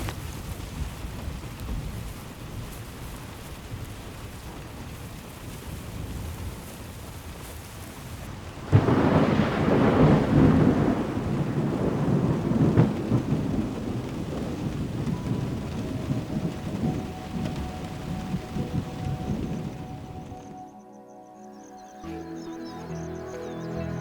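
Heavy rain pours steadily over Serengeti gallery forest, then a loud rolling rumble of thunder breaks in and lingers before the downpour thins near the end.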